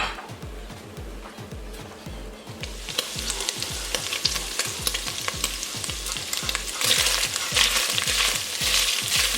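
Meat for carne en su jugo browning in a hot pan, a loud steady sizzle with rhythmic stirring scrapes that grows brighter and more intense partway through, no talking.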